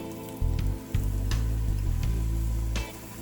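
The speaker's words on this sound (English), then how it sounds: "We'll go ahead and put in my onion." Chopped onion dropped into warm melted salted butter for broccoli cheddar soup, breaking into a steady close sizzle with a few crackling bursts, no talking over it.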